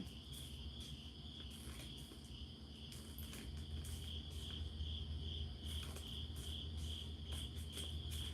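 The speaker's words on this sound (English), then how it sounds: "The sound of the crickets is so relaxing." Crickets chirp continuously in a steady, high-pitched trill, fairly quiet and distant, with a low background hum growing slightly louder.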